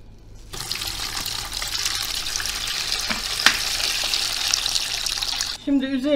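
Water is poured off a batch of cracked green olives that have soaked for three days in brine, a steady splashing rush lasting several seconds. It stops abruptly, then a voice speaks briefly.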